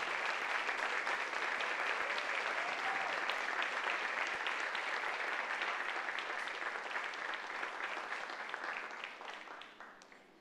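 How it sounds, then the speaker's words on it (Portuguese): A church congregation at a Sunday service bursts into sustained, dense applause, loud and continuous, then tapers off toward the end. "Vamos aplaudir ao Senhor."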